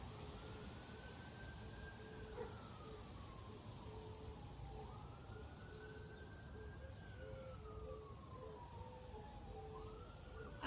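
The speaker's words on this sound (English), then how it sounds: "I don't know if you can hear the sirens" Faint emergency sirens wail in slow rising and falling sweeps from a distance, over a steady low background rumble.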